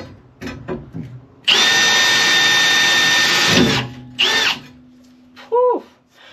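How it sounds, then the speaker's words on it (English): A power drill whirs loudly in a sustained two-second burst, then a short second burst, while framing a Ford Econoline camper van, with quiet shuffling sounds before and a brief squeak at the end. "I definitely don't have the right drill bit for this"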